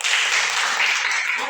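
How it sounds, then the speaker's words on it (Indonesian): Steady broadband clapping from a group, sustained applause for a presenting group in a classroom teacher-performance assessment, with a few voices mixed underneath. "untuk kelompok 1 berikan tepuk tangan"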